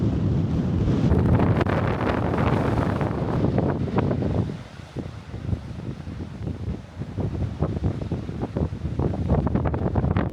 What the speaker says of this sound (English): seems as it's awfully windy today